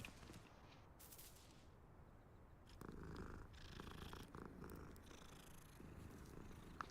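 A cat purring in the Hogwarts Legacy video game, a low steady rumbling purr heard close up on its own, continuous through the whole stretch and a little louder in the second half.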